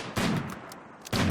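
Colonists fire guns in Rimworld, two sharp bursts of gunfire at the start and near the end, with a few fainter shots scattered between them.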